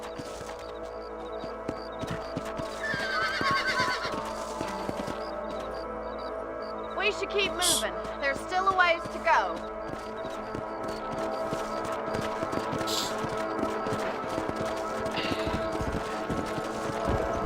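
Steady clip-clop of horse hooves at a walking pace with a brief whinny partway through, in the video game Red Dead Redemption, under a voice speaking over a constant low background hum.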